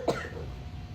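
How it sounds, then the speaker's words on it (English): A single short, sharp cough, close and fairly loud, bursts out once and then leaves a quiet indoor room tone. "The cough has come back."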